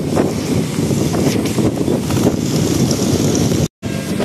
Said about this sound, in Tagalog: ang lakas ng hangin guys